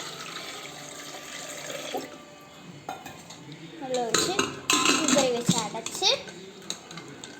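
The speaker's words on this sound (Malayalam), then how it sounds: "ഇതുപോലെ മുട്ട വെച്ച് അതിലേക്ക് വെള്ളം ഒഴിച്ച്" Water splashes and pours over eggs into a metal pressure cooker among clattering utensils, following a quieter stretch of kitchen noise with faint voices.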